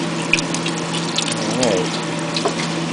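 Liquid gushes steadily as a quart is poured into a pot for chicken étouffée, a continuous close splashing stream under a low background hum.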